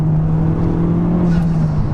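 A car engine drones steadily and loudly at high revs, a continuous throaty hum sustained throughout without any talking.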